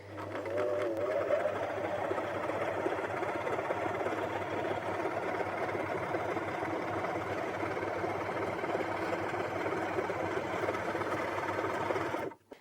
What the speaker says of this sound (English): you can see that's sewn that really nicely.